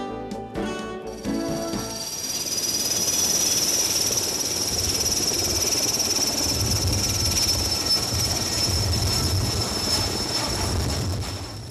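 A logging helicopter flies overhead in Alaska, its loud whining turbine and thumping rotor building quickly after a brief opening tone and then holding steady and close, with no talking.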